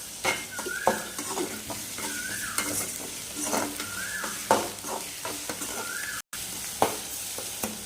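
A spoon or spatula stirs egg gravy in a sizzling pan. It scrapes the pan in quick repeated strokes over a soft frying hiss, close by and fairly quiet.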